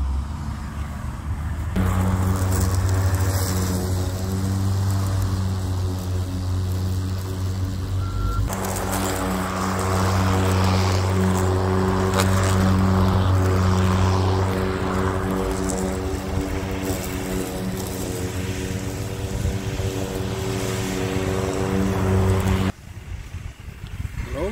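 An EGO Power battery lawnmower cuts through grass over six inches tall, a steady close motor whine with low harmonic hum holding for about twenty seconds before it stops near the end.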